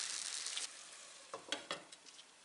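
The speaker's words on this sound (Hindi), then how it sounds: "इनको ऐसे हिलाना है, अगर आप हिलाएंगे नहीं तो ये जल जाएगा।" Tandoori chicken leg pieces sizzling in a frying pan, a steady hiss that drops after a moment, followed by several distinct scraping knocks as the pieces are stirred and turned.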